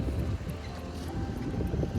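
A boat on a river ferry crossing gives off a steady low rumble, mixed with gusty wind buffeting the microphone, close and continuous throughout.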